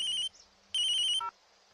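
A telephone rings with two loud electronic bursts separated by a short gap, heard alone and close.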